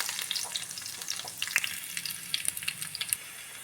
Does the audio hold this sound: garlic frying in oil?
yes